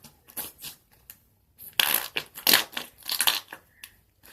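Noisy Putty slime is squished and pressed by hand, giving close, quiet bursts of wet crackling and squelching in uneven clusters, louder in the second half.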